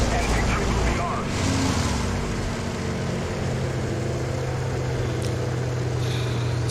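A steady, loud engine drone runs continuously from a World War II aircraft in the War Thunder combat flight game, a dense roar filling the whole stretch without a break.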